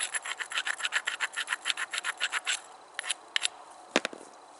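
Grinding a flint stone before knapping: a quick run of rhythmic rasping strokes, close and fairly faint, then a few scattered separate scrapes after a short pause.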